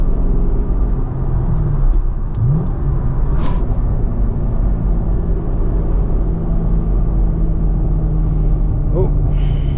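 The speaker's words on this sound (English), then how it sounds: "Oh, messed up on that downshift, didn't I?" A truck engine rumbles loudly and continuously through a fumbled downshift on a road with stoplights, with low drone and pitch shifts, and a driver talking over it.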